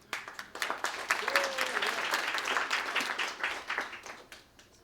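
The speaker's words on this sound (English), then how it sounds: "you can clap for that if you want" Audience applause at a Center for Inquiry Los Angeles interview event, a steady wash of clapping that holds for several seconds, with a brief voice cutting through near the middle before the clapping thins toward the end.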